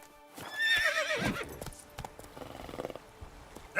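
Roach, a horse in The Witcher 3: Blood and Wine, whinnies loudly and then trots with steady clip-clop hoofbeats amid light game ambience.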